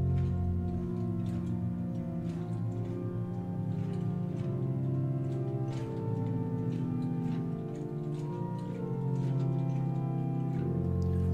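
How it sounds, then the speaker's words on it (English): The Hinsz pipe organ in the Bovenkerk in Kampen sounds a string stop combined with flutes, a soft sustained chord texture with faint clicks of key or stop action, heard at a distance in a reverberant church. "And then there's also a string voice, which I like to combine with flutes"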